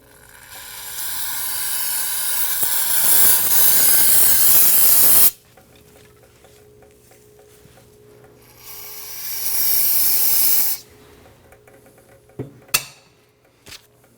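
Solvent hisses from a spray can onto residual brake fluid at a 2017-2020 Hyundai Elantra's rear brake hose, two loud sustained bursts separated by a quiet pause, followed by a few light knocks.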